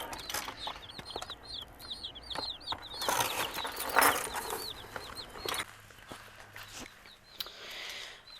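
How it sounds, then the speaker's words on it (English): Cornish Cross chicks peep continuously inside a box, a chorus of small high chirps with occasional rustling and scratching nearby. "here's our chicks. They're in this little box right here."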